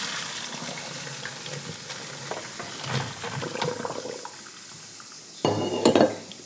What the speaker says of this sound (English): We are going to drain our potatoes.